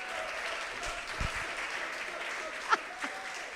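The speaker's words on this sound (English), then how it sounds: "can you just join me in one round of applause again for ASAL and all the partners and everybody?" An audience at an art education symposium applauds, a soft, distant patter of clapping held steady for a few seconds, with a couple of faint knocks partway through.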